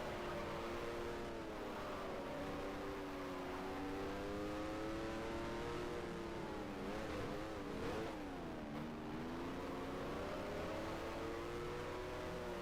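A 2014 Ferrari Formula 1 car engine in the F1 Challenge racing game, droning loudly and continuously as it revs up and down through gear changes, with no talk.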